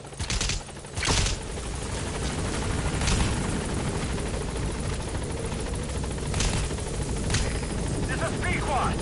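Pequod helicopter arriving at the landing zone in Metal Gear Solid 5, a continuous rotor and engine drone with sharp bursts that sound like gunfire cutting through, and voices faintly present.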